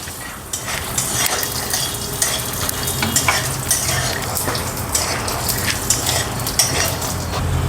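Peanuts fry in oil for a thin poha chivda, a loud, close, continuous sizzle and crackle with repeated spoon scrapes and metal clinks against the pan all the way through.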